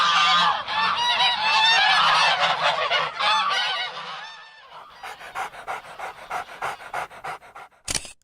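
Geese on a lake honk loudly in a dense, overlapping chorus, then the calls thin out into scattered honks and panting-like bursts near the end.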